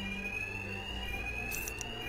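A steady, high-pitched alarm tone blares without a break in Batman Arkham Knight, with a low rumble underneath and a few faint clicks.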